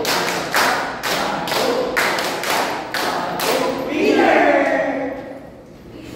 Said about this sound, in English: on the count of 3, let's do the winner clap.